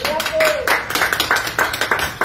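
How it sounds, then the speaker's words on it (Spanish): A small group in a hospital intensive care ward gives brisk, close hand clapping for a patient leaving for the general ward. A voice is heard briefly at the start. "Aplauso."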